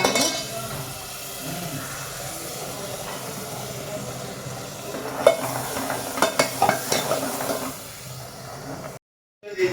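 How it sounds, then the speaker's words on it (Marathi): Ground onion-and-coconut masala roasting in oil in a pan, with a steady close sizzle and scraping spoon strokes, then several sharper clinks before a brief silent gap. "याला आपण छान तेल सुटेपर्यंत खमंग असा भाजून घेणार आहोत."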